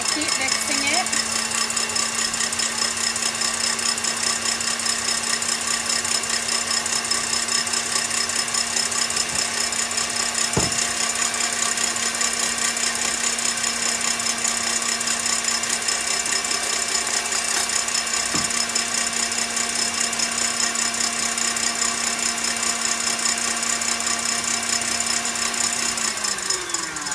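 An electric mixer whips egg whites for a cinnamon cheesecake, running as a steady, continuous whir from start to finish with no pauses, at an even, fairly loud level and with no talk over it.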